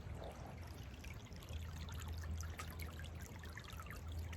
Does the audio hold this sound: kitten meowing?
no